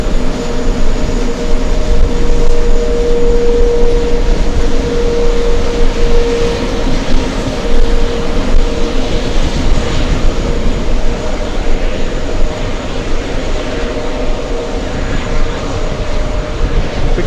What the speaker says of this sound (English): some great sounds coming from those Rolls-Royce engines